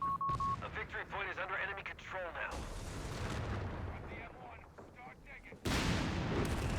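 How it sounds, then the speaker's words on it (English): In the Company of Heroes 3 strategy game, a half-track fires an artillery barrage at a building, with loud rumbling blasts and booms running continuously under someone commentator's voice. "Barrage coming out from this half-track, gonna destroy that building"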